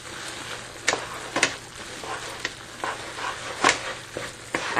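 Toffee mixture with unsalted roasted almonds being stirred in a pan, a series of irregular scraping, bubbling strokes at close range over a low steady background, with no talk.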